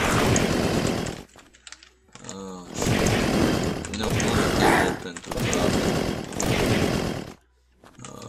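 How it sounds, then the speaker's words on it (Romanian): A chainsaw in the game Unturned roars loud and close in long revving bursts with short gaps between them, while someone talks over it. "le dau cu drujba"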